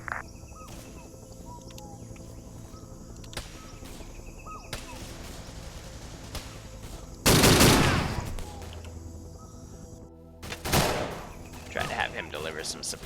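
Suppressive gunfire in a Vietnam War video game, with loud bursts of automatic fire and heavy blasts near 7.5 and 10.5 seconds over constant distant shooting, insects and battlefield ambience, while people talk throughout.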